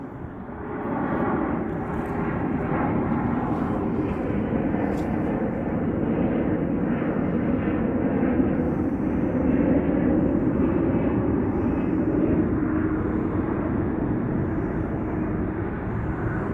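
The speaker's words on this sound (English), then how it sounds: "These airplanes are pretty loud, so you're going to have to speak above them." Loud, continuous low roar of airplanes passing overhead at a cemetery, a broad steady rumble that swells slightly and holds for the whole stretch with no talking over it.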